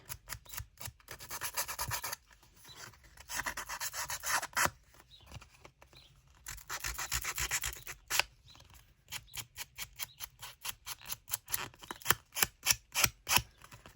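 Repeated scraping and rubbing strokes of paper, dense bursts at first, then quicker rhythmic rasping strokes near the microphone.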